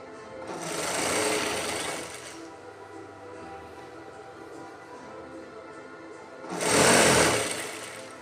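A sewing machine stitches a fall onto a yellow saree with a light coffee border, running in two close, buzzing bursts of about one and a half seconds each, separated by a quieter pause.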